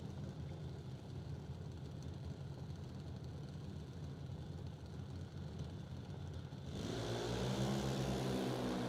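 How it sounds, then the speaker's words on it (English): A junior dragster drag racing run begins as a low, steady background rumble and swells into a louder, harmonic engine roar near the end, with no talk. "Landon Graves going to go first in the dragster from Burleson, Texas"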